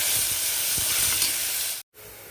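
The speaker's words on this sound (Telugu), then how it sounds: "ఆ ముద్ద వేసేసి ఒకసారి బాగా వేయించుకోవాలి" Ground green chili and garlic paste fries in hot oil for tomato rasam, a steady loud sizzle and hiss close by, cutting out abruptly near the end before quieter sizzling resumes.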